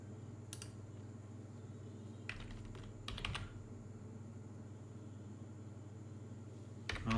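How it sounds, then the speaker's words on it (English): A few short bursts of typing on a computer keyboard while entering a domain name, with brief clusters of clicks separated by pauses over a steady low hum, fairly faint and close. "I'll go ahead and type it in"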